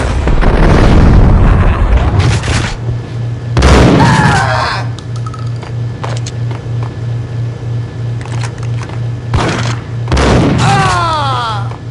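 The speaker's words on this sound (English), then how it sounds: "I thought it was a bomb for sure" Video game explosions in a war setting: loud booming blasts with bursts of gunfire-like crackle, a steady pulsing tone underneath, and excited voices shouting.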